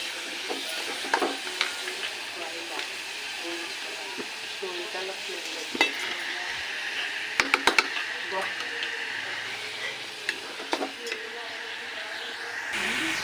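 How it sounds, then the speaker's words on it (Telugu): Sliced onions with green chillies fry in an oil-filled pan for a mushroom dish, with a soft steady sizzle and occasional stirring clinks of a spoon against the pan, close and continuous. "వేసిన ఆనియన్స్ అన్నీ కూడా ఇలా గోల్డ్ కలర్ వచ్చేంత వరకు కూడా బాగా వేగించుకోవాలి"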